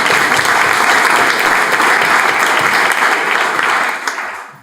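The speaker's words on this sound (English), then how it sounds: "give them a round of applause" A forum audience applauds veterans with sustained, loud clapping that fills the room, then fades near the end.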